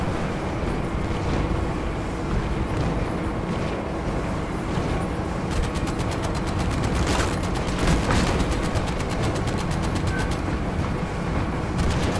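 Machine gun fire in the WWII VR game Medal of Honor: Above and Beyond, with rapid rattling bursts growing denser in the second half, layered over a constant loud battle rumble with no talking.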